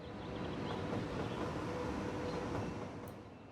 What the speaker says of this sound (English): Let's take a peek at our trains real quick before we wrap up here